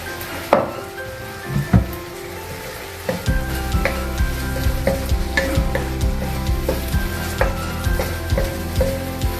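Bitter gourd (ampalaya) sautéing in a pan: steady sizzling with repeated scraping stirs and sharp clinks of a utensil against the pan, close and continuous with no talking.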